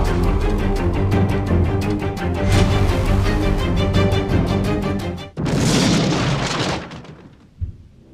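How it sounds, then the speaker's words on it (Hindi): A car explodes and burns in a dramatized story scene: a loud sustained rumbling blast with music-like tonal layers, then a sudden burst of crackling roar that fades to near silence with a final thud. "गाड़ी बुरी तरह से जल रही है"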